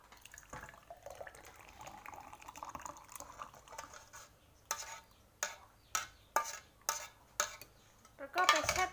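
Milk pudding mixture with agar powder stirred in a pot, soft liquid swishing at first, then a run of regular spoon-against-pot clinks and scrapes growing louder toward the end.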